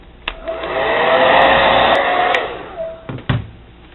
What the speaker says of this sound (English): Use the hair dryer to get a nice